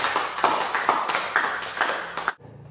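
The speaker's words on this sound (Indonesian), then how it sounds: "Kita berikan tepuk tangan untuk kalian." A small group at a school group-counseling session claps in a quick, uneven patter for about two seconds, then stops abruptly into near silence.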